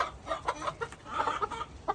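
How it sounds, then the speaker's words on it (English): Chickens and a rooster on a farm, scattered soft clucks and short calls at a moderate distance, fairly faint, with no talk. "you can hear the rooster"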